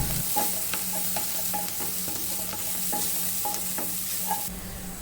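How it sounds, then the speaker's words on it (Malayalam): A snack filling seasoned with salt is stir-fried in a pan, giving a continuous sizzle broken by regular spatula scrapes and taps at a close, even pace. "ഇനി ഇതെല്ലാം കൂടി നമുക്ക് നന്നായിട്ടൊന്ന് വഴറ്റിയെടുക്കാം"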